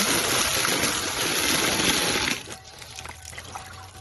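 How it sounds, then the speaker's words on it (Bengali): Carrots rinsed under running tap water in a home kitchen give a loud, continuous splashing gush that suddenly drops to a faint trickle and small handling noises. "গাজরগুলো আমি ধুয়ে পরিষ্কার করে নিলাম"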